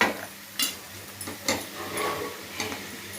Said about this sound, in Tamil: இது நல்லா வதக்கிட்டு தக்காளி போட்டுக்கலாம் இதிலே நம்ம தக்காளியும் போட்டுக்கலாம்